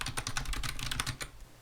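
Rapid typing on a computer keyboard, a quick close run of clattering key presses lasting under two seconds with no voice.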